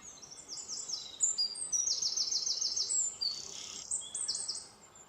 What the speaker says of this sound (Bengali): পাখিগুলো এত জোরে জোরে ডাকছে